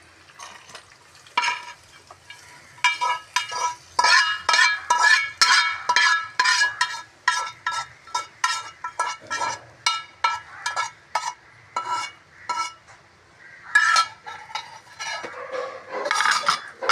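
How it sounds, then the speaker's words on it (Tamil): Fried chicken pieces tossed and stirred in an oily pan with a metal ladle, giving a steady run of clanks and scrapes with light sizzling underneath. "சிக்கனை அப்படியே திரட்டி விடுவோம்"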